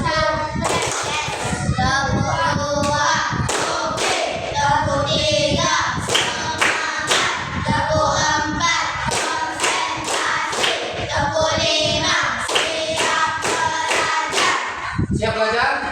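A class of schoolchildren claps in a rhythmic concentration pattern, sharp bursts of hand claps in quick groups and pauses, loud and close, with children's voices chanting along between the claps.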